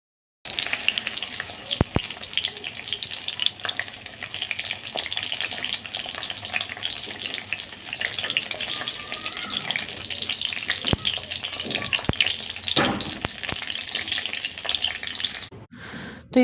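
Spices fry in a pan over a low flame, giving a continuous fairly loud sizzle with occasional sharper crackles and a brief clatter near the end.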